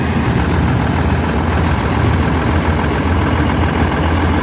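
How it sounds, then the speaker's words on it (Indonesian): A bus engine, on an ALS 299 Patas Surabaya coach, runs smoothly with a steady low idling hum and rumble that continues evenly throughout, with no talk. "Masih halus suara mesinnya"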